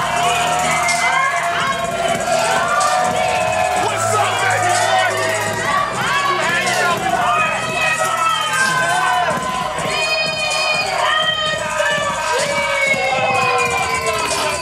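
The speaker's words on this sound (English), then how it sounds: "This crowd is coming unglued, GB." A wrestling crowd roars and cheers wildly in a packed arena, a dense, loud and continuous wall of voices with shrill whistles and yells rising over it throughout.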